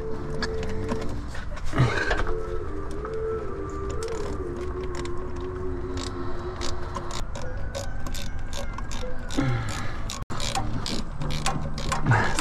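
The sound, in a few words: ratchet loosening a bolt on 2004 Chevy Astro Van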